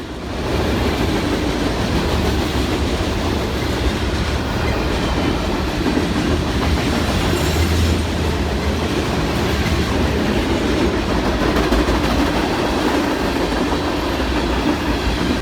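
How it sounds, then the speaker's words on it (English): A westbound freight train led by a BNSF run-through locomotive speeds past a small-town Amtrak station in central Missouri, a loud, steady, continuous roar of wheels and rail clatter that holds for the whole span without voices. "A westbound freight with a BNSF run-through unit speeds past the town's Amtrak station."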